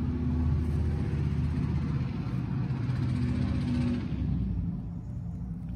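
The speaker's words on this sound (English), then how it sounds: "It is loud here outside with all the cars driving by" Traffic rumbles steadily outside beside a 1964 Lincoln Continental Convertible, a continuous low drone of passing cars that eases slightly toward the end.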